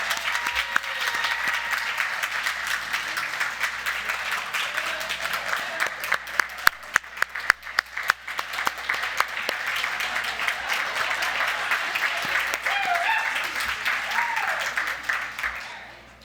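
A large audience at a nursing pinning ceremony at Nashville State Community College breaks into sustained applause that swells, holds dense and steady with scattered sharper claps, then tapers off at the end.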